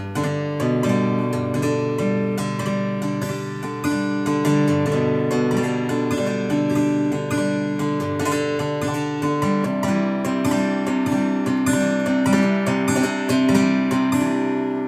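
Guitar played with a bouncing, rhythmic picking pattern, steady and full, notes ringing over a continuous groove with no talking.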